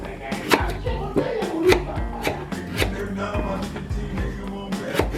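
A knife chops turnips on a cutting board in a home kitchen, about a dozen sharp, evenly paced strikes close to the mic, with a faint background hum between cuts.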